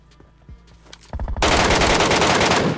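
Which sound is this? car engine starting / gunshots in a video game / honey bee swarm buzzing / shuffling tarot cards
gunshots in a video game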